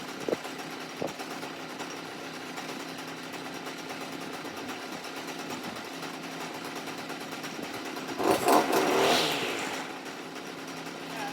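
A Stihl whipper snipper engine runs steadily at a raised idle after an idle adjustment, a close, buzzy drone that swells briefly near the end.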